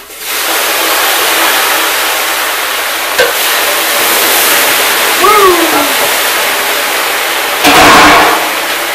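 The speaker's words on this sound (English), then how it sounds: "the rocks give you a lot of good hot surface area for pouring water on, so we'll do that." Water poured onto hot rocks of an off-grid wood-stove sauna, giving a loud, sustained steaming hiss that fills the space, with a brief louder burst of sizzle near the end.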